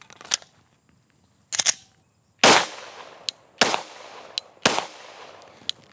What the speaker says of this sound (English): let's put a couple rounds through it and see what our results are